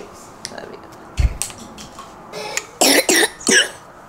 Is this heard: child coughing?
yes